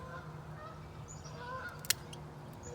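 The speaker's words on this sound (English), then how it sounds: "The geese are coming back." Geese honk faintly in the distance over a backyard orchard, a few scattered calls above steady outdoor background noise, with one brief sharp click partway through.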